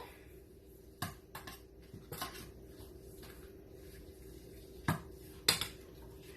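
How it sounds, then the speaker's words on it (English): Shredded coconut is mixed into crushed pineapple in a bowl, with a quiet bed of clinks and scrapes broken by several sharp, close knocks of a utensil against the dish. "we're now going to mix 1 cup of shredded coconut in with your crushed"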